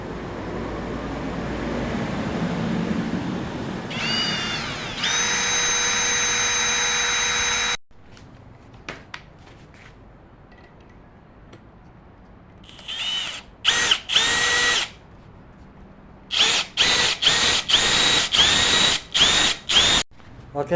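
A Milwaukee M12 FPD2 brushless cordless impact hammer drill drives a large 4-inch screw. A long, loud continuous motor whine is followed by a pause, then a series of short, sharp bursts as the trigger is pulsed.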